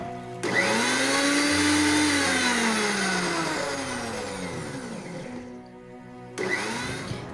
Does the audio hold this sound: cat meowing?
no